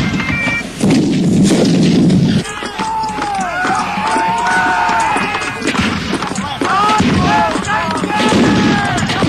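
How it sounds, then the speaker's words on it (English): Cannons firing at a 1995 re-enactment of the Battle of Prestonpans: heavy, loud booming bursts at the start and again near the end, with crowd noise throughout and a narrator talking over it. "leaving only Colonel Whiteford and Mr. Griffith to fire the cannons at the Highlanders"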